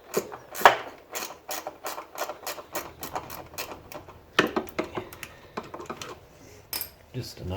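A socket ratchet wrench works on a scrapped washing machine, giving quick bursts of ticking pawl clicks with short pauses between strokes, close and fairly faint, with occasional metallic clanks.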